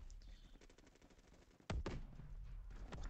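Scattered gunshots from the online shooter Phantom Forces, mostly faint and distant, with one sharper, louder crack partway through and a few lighter pops after it.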